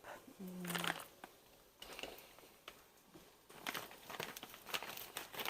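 Crinkling plastic of a shrimp package being handled and torn open up close, with soft rustles and a brief low tone near the start.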